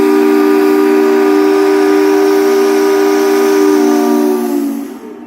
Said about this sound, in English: The UW Life Saving Station may sound the steam whistle